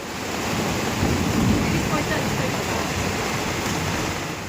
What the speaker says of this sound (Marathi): विजांच्या कडकडाट मस्त पाऊस चालू आहे.